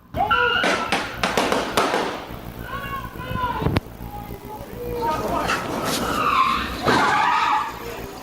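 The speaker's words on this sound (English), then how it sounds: "You can then hear what sounds like a collision in the parking lot." A loud tire screech and thud-like crash in a parking lot amid rumbling engine noise, with people talking over the commotion.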